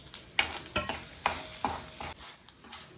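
Mustard seeds splutter in hot oil with quick, irregular pops and crackles over a soft sizzle, close by and fairly quiet.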